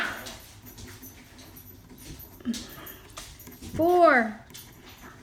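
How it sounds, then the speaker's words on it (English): Dogs fighting, with a sharp rising-and-falling yelp or whine about two-thirds of the way through, heard over ongoing speech and low background noise. "those are my dogs fighting"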